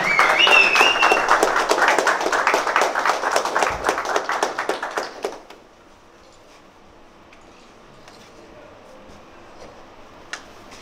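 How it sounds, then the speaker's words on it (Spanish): Loud, dense applause from a crowd at a freestyle rap battle, sustained for several seconds then fading abruptly into quiet room noise with a single faint click. "Fuerte ese aplauso de toda la casa"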